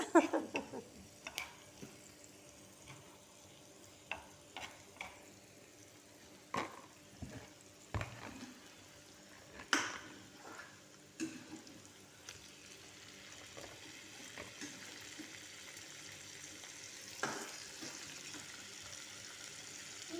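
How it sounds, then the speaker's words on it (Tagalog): Chicken frying in a pan during home cooking of spicy Nepali food, giving a quiet, steady sizzle broken by scattered clicks and clatters of stirring utensils, with no voices over it. "Chicken cooking."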